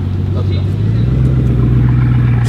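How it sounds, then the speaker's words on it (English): A car engine hums steadily and rises slightly in pitch across a few seconds, a loud, close, continuous drone with faint background noise. "Such a beautiful sounding car."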